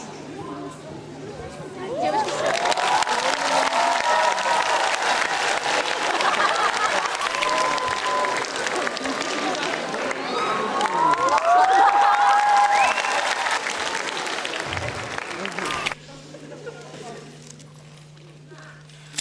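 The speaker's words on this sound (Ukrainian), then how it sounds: "Його неймовірні трюки викликали шквал оплесків" A hall audience applauds loudly after a strongman show of feats of strength, with sustained dense clapping and crowd noise that stops abruptly near the end.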